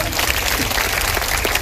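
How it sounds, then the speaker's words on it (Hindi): A gathered audience at a Buddhist talk in India claps in a brief, dense burst of applause that continues unbroken for under two seconds. "इनके लिए और जोर से तालियां।"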